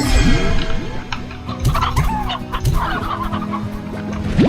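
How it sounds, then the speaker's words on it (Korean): Several chickens in Slime Rancher cluck and chatter continuously and close by, with overlapping calls forming a busy, steady coop-like din. "여기 닭들 많은데?"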